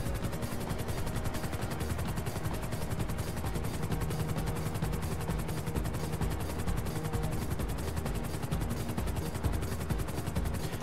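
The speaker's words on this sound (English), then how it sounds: "we got a helicopter" Rapid rhythmic thumping of helicopter rotor blades in the video game GTA 5, steady and loud throughout, mixed with a dense mechanical roar.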